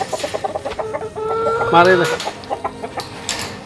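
Hens clucking inside a backyard chicken coop, several birds close by with rhythmic short clucks and a louder drawn-out call in the middle.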